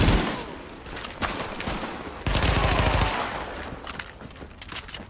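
Rapid automatic gunfire in the video game Tom Clancy's The Division comes in loud bursts, a sustained volley in the middle and scattered shots after, with no talk.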